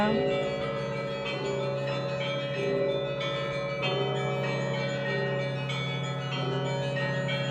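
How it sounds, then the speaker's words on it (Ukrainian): Bells of the Pochaiv Lavra ring with sustained, overlapping tones and repeated strikes, steady and fairly loud throughout without voices. "Дзвони лаври."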